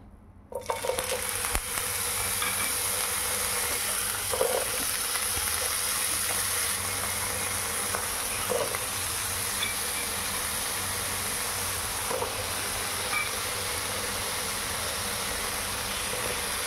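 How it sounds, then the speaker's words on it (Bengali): Potato pieces fry in a small amount of hot oil, a dense steady sizzle that starts abruptly and holds loud and even for the rest of the clip, with no talking over it. "প্রথমেই আমরা আলুগুলো দিয়ে ভালো করে ভেজে নেব"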